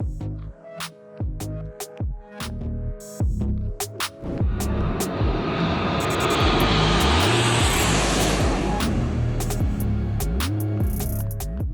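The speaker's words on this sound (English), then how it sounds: "They fly so close together that it looks as though we are watching a single airplane rather than a formation of fighters." Blue Angels Navy fighter jets flying in tight formation roar past overhead, a loud, sustained jet rumble that swells and holds steady after scattered sharp noises at the start.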